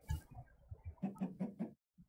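Chickens in the Minecraft video game cluck in a short series of four evenly spaced clucks, clear and close, after some softer low sounds.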